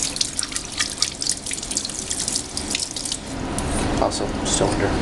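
Running tap water pours steadily over a printed circuit board being rinsed, a continuous close splashing that grows slightly louder toward the end.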